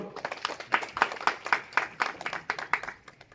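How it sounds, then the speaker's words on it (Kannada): Clapping at a Kannada ashram satsang anniversary gathering, arriving in distinct rhythmic bursts roughly every quarter second, moderately loud and fairly close, with no talk over it. "ಜೋರಾಗಿ ಚಪ್ಪಾಳೆ ಎಲ್ಲರೂ"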